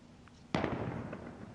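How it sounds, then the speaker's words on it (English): A single gunshot in the DayZ survival video game cracks out once, sharp but fairly distant and quiet, with a short echoing tail. "Now he's shooting."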